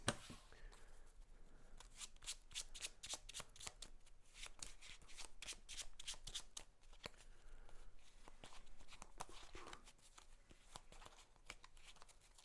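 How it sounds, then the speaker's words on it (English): A deck of Mage Knight board game cards being shuffled by hand, a run of quick crisp riffling bursts and soft slaps repeating close by, fairly quiet and with no voices. "I should shuffle my own deck."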